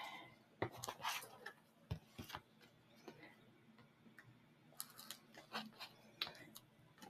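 Scissors snip through paper while a composition notebook is trimmed for a craft project. The cuts come as quiet, scattered ticks and crisp snips at an uneven pace, close to the listener, with no talk over them.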